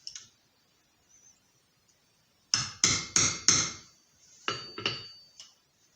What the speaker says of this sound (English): So I'm going to put this in and then hammer it.